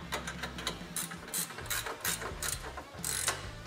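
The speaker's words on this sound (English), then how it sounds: "I go up here to my top bolts and I go ahead and fully tighten them" A hand ratchet is fully tightening the top mounting bolts of a front bumper on a Polaris RZR XP Turbo, clicking in close repeated bursts of pawl ticks with brief pauses between strokes, alone with no talk.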